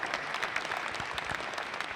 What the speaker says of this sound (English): Would you please give a big round of applause for Mr. Jeff Seyfried, ladies and gentlemen.